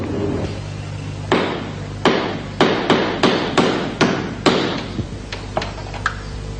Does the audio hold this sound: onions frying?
no